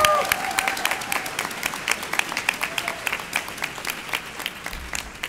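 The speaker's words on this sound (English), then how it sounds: "please join me in a big round of applause for our Tara" A conference plenary audience breaks into applause, many hands clapping in a fairly even, crisp patter that gradually thins out, with a brief voice over the crowd at the very beginning.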